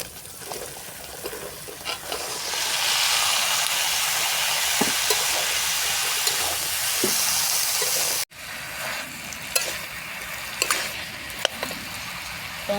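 Bottle gourd dropped into a pan of fried cumin, coriander and chilli powder sets off a loud, steady sizzle that lasts several seconds, with occasional stirring taps. A brief break is followed by quieter frying.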